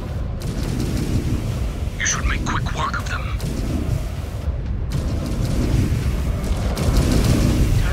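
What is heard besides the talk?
PPC weapon fire and explosions in MechWarrior 5 video game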